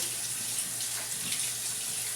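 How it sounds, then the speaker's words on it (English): Tap water runs steadily into a sink while hands are rinsed, a constant close hiss with no talk, in a home kitchen before baking cinnamon rolls. "Let the water run off."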